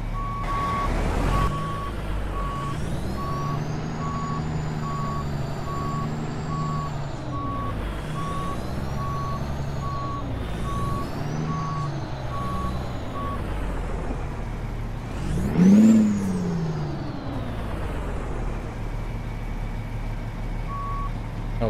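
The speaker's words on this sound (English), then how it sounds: "let's back her on up here" Truck in American Truck Simulator backing up, its reversing alarm beeping in a steady, evenly spaced series over a low engine rumble, with a brief hiss of air brakes near the end.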